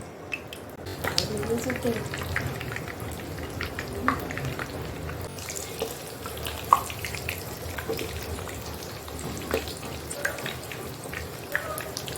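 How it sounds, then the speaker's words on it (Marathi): A piece of Surti undhiyu mixture dropped into hot oil, frying with a soft continuous crackle and scattered pops under intermittent talk. "आपण एक टाकून बघूया तेल गरम झालंय का"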